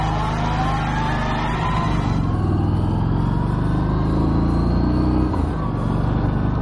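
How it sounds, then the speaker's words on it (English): A Harley-Davidson Street 500 motorcycle, built in India, runs with its standard exhaust. The engine note is a steady, busy, fairly loud drone with a rapid, light pulse and a slight shift in pitch midway. "the biggest disappointment with this engine has to be that standard exhaust note. It sounds more like a sewing machine than a regular Harley-Davidson"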